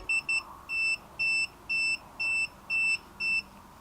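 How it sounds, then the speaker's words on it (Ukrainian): A cordless Dnipro-M DTC-200BC trimmer sounds its reverse-button warning as a repeating electronic beep: two short pips, then a run of longer tones evenly spaced, loud and close over a faint hum. "Ця кнопка це є реверс, тобто шпуля починає працювати в зворотньому напрямку, і ця кнопка має звуковий сигнал."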